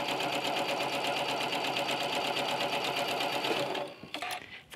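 A sewing machine runs steadily, stitching a scant quarter-inch quilting seam on fabric, a dense rapid whir that stops near the end, leaving a few soft handling noises.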